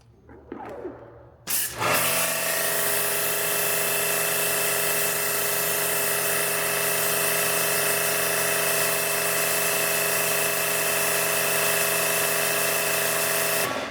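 An AR635 pressure washer at 3.4 GPM starts with a sharp burst, then a steady loud motor-and-spray roar that holds constant for over ten seconds of rinsing, with no talking.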